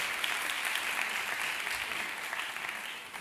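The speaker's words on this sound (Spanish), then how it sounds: "Un aplauso para ella, por favor" Conference audience applauding in a hall, dense steady clapping from many people that gradually tapers off slightly toward the end.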